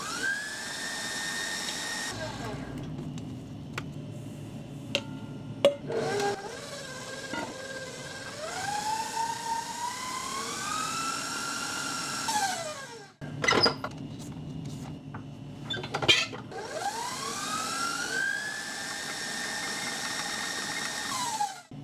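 A large stand mixer with a whisk beats keto chocolate chip cookie dough. Its loud, steady motor whine ramps upward in pitch, cuts out partway through, then spins back up, near and with no talk.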